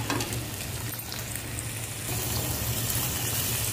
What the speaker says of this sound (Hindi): अब ऑयल के अंदर हम प्याज डालेंगे।